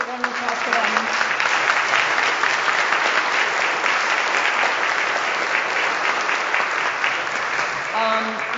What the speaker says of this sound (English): So a special round of applause for them.